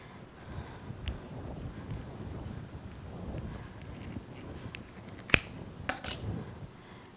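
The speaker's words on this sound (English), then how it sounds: "Push through your rope and then begin by cutting one section." Scissors snip through rope for a bee skep, a few sharp cutting clicks near the end after quiet handling rustle, close and faint.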